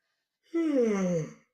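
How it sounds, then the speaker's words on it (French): A person yawns once up close during a 5v5 werewolf-style party game, a single drawn-out breathy yawn with a falling voiced tone lasting about a second. "Eh, baille pas comme ça, toi."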